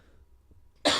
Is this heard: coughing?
yes